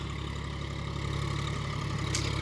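John Deere 5050 D 4x4 tractor pulling a rotavator through a field, with a continuous close diesel drone and low rumble, steady throughout, plus a brief faint high scrape near the end.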